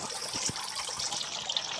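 Dirty water trickling and splashing through a homemade recycled bucket filter, a steady running pour with small irregular drips and gurgles close by.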